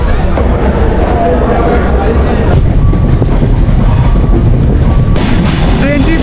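Banalata Express train running into the airport railway station an hour late, a loud continuous rumble of wheels and carriages with clacking rail joints and short squeals throughout.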